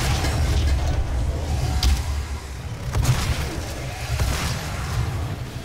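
Grenade explosions in the shooter DOOM (2016) roll out as loud, heavy booms over a dense low rumble, several blasts blending together close up, with a little faint talk.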